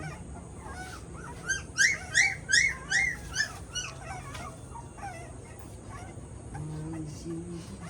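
Several dogs and puppies bark and yelp in a short, close burst of high, overlapping cries, then quiet down, while faint background noise and low murmuring continue.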